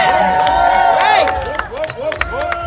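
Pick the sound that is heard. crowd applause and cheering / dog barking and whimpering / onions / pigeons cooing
crowd applause and cheering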